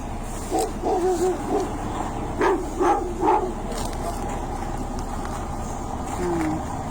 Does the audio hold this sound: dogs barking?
yes